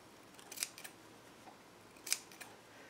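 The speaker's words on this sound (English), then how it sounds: "And I just snip it." Scissors snip through strips of fabric for a collage, two crisp close cuts a second and a half apart with a softer click after each, in an otherwise quiet room.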